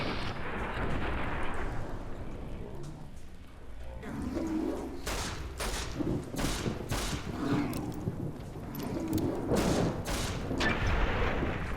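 Gunfire in Fallout: New Vegas, a series of sharp, loud shots fired in irregular bursts over a quieter stretch of ambient game background.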